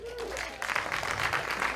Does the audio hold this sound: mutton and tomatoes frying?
no